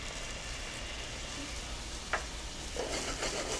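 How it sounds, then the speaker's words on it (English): Fresh lemon juice hitting a hot pan of browned fennel gives a steady broadband sizzle, with a brief sharp crackle midway and a brighter, louder hiss near the end as the liquid lands. "I have lemon juice, fresh lemon juice. Add that to the pan."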